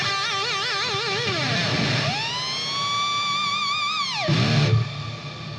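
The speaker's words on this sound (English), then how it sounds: "you can just turn on the reverb" A warbling, heavily effected electric guitar tone through the STL Tones ToneHub Gary Holt amp plugin with reverb on, wobbling pitch, then a long sustained note bending down into a washy, reverberant tail.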